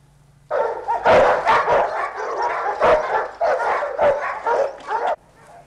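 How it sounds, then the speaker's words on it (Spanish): Several dogs bark in rapid, overlapping bursts, loud and close, with yips mixed in, continuing for several seconds before stopping. "¿Habéis oído? ¡Son perros!"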